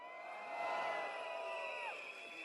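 A crowd at a Singapore Democratic Party rally at Evergreen Primary School roars and cheers, a sustained swell of voices and whoops that peaks early and carries on steadily, heard from amid the gathering.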